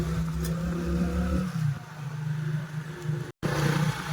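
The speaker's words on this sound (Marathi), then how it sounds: "प्रथमेश भाऊ गाडी चालवतोय आणि मी तर आहेच, बसलेलं आहे फक्त मागं." A vehicle carrying a rider on the back pulls away, its engine a steady low drone with a brief surge, close and continuous, with no talk over it.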